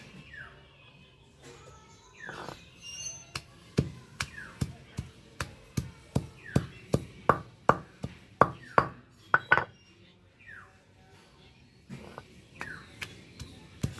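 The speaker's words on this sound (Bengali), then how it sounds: "ধোয়া হয়ে কুল নিয়ে থেতু করে নিই।" Jujubes are pounded on a stone grinding slab (shil-nora), giving a long run of sharp, close knocks in a steady rhythm that pauses and resumes, while birds chirp faintly in the background.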